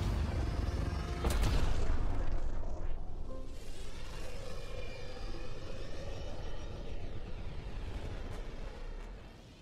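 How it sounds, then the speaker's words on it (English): Tempest starship departing in the video game Mass Effect Andromeda, a loud roaring engine burst and rumble that swells early, then settles into a steady sustained whoosh that slowly fades, with no talk. "Nexus Control, this is the Tempest, ident 2527, prepping to depart."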